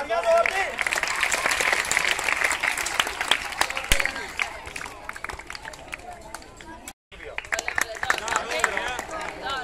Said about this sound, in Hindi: सर के लिए तालियां बजाएं